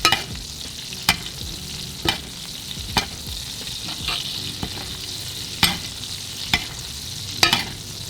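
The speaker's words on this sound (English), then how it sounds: "once you take this out the oven, you get the butter. Go ahead and baste it" A steak fresh from the oven is basted with butter in a hot pan, a continuous close sizzle broken by sharp periodic spoon scrapes and taps against the pan, with no talk.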